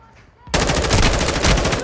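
Rapid automatic gunfire from the video game Warzone II bursts in loud and sustained after a brief quiet lead-in, a dense rattling stream that continues to the end.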